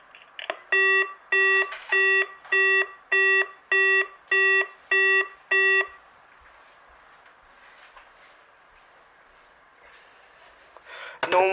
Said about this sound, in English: This beep is a really trash beep.